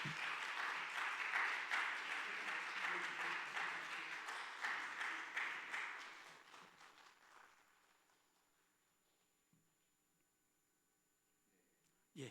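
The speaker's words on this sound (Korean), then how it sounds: "박수 한번 해주세요." Audience applause at a church award ceremony in a Wednesday worship service, a dense steady clapping that fills the room for about seven seconds, then thins and fades to near silence with a faint stray sound at the end.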